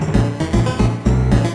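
A short excerpt of an Undertale soundtrack song from the final boss fight, a loud, dense, rhythmic instrumental passage with steady pulsing beats and no voices.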